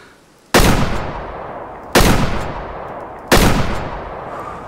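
Three loud, separate Remington rifle shots fired at a 25 m range in the hunting game Way of the Hunter, each a sharp crack followed by a decaying echo, spaced about 1.4 seconds apart with no talking.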